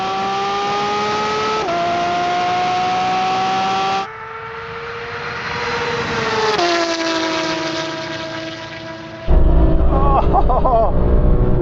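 Porsche 911 GT3 RS cars of the 996, 997, 991 and 992 generations accelerate hard in a drag race, loud engine wail rising through the revs with audible gear shifts, ending in harsher, broken engine noise.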